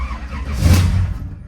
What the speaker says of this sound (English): A little backfire there.